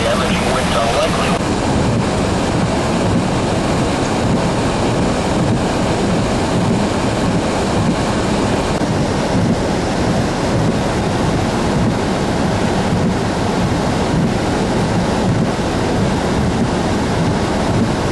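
High storm winds and churning water during a storm in Healdton, Oklahoma, a loud constant roar of wind buffeting the microphone over rushing water, steady for the whole stretch with voices mixed in.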